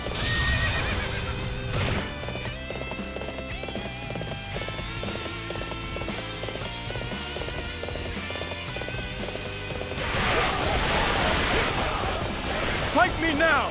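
Horses in the Dynasty Warriors 7 video game neigh loudly and their hooves clip-clop, set over a busy game soundtrack with voices speaking over it; a louder burst of neighing and galloping rises near the end.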